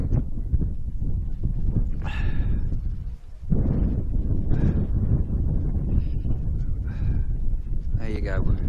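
Blustery wind on an open hilltop at Beeston Castle, buffeting the microphone with a constant loud, low rumble. Voices come and go through it.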